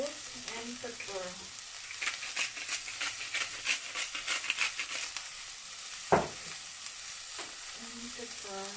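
Asparagus fries in a pan with a hissing, crackling sizzle, broken by stirring noises and a sharp clatter near the end. A voice is heard briefly at the start and again at the close.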